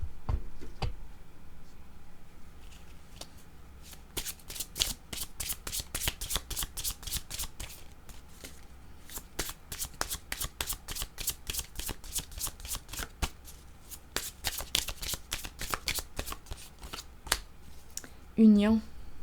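A deck of cards is shuffled repeatedly as part of a tarot-style card reading, giving a run of crisp riffling flutters and snaps at close range. The shuffling comes in bursts with brief pauses between them.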